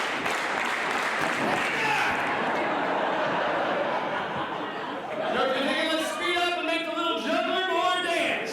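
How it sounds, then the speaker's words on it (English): A theatre audience at a Seattle vaudeville comedy festival claps steadily, forming a dense wash of hands with crowd chatter mixed in, before tonal voices or music take over in the last few seconds. "I'm looking for a nice, steady hand clap."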